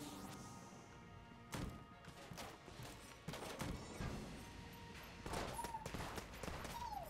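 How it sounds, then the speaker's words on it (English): Rapid gunfire from a fast-firing gun in the video game Enter the Gungeon, bursts of quick shots and thumping impacts in several clusters, with brief descending whistle-like effects, moderately loud and without talk. "since this gun fires so quickly, we would be reloading constantly"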